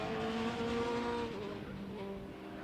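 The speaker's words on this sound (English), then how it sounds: "we can hear Stuart White going out of sight just now" Super touring race cars at an HSCC circuit round drive past, engines howling loud and high with shifting pitch as the cars pull away and fade slightly, a continuous racing-engine roar throughout.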